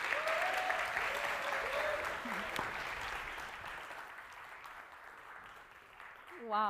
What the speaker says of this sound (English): Please, a big round of applause for the SGA Executive Manager, Kristina Janković Obućina.